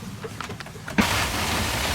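Heavy rain near San Diego, heard from a boat as a gale approaches, begins as a sudden dense roar about halfway through and holds steady, following a quieter lead-in with light patters.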